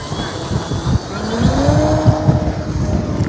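A Nexa P-51 Mustang 1580mm electric RC plane takes off, its motor whine climbing steadily in pitch over a constant rush of wind and ground noise.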